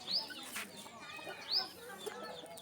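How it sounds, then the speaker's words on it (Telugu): A hen clucks with a couple of sharp, rising calls a second or so apart, faint and fairly close in a quiet yard. "పెట్ట గుడ్లు పెడుతుంది."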